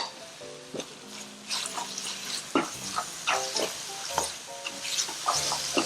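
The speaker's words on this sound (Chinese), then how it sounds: "把那个豆瓣酱的香气炒出来。" Doubanjiang chili bean paste is stir-fried in a pan for mapo tofu with fish: steady close sizzling, with the spatula scraping and clattering against the pan in irregular strokes, no voices.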